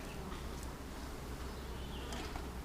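Honey bees buzz steadily around an opened hive in a bee yard during an inspection, a continuous close insect drone with no voices.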